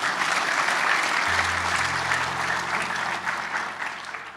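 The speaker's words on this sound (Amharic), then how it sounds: "ስለ እንቅልፋችሁ አጨብጭቡ።" Audience applause at a motivational self-development talk, a steady dense clapping from a large crowd that holds for several seconds and slowly eases off.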